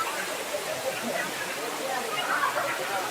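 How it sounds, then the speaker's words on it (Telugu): Talakona waterfall in Andhra Pradesh, cascading down from the hills, makes a steady broadband rush of falling water throughout, with a person's voice faintly mixed in. "తలకోన శిఖర పర్వతాల్లో నుంచి దూకే తలకోన వాటర్ ఫాల్స్"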